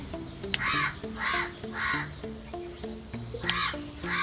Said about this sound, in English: I guess that crow is disturbing us.